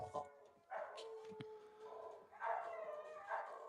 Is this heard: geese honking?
no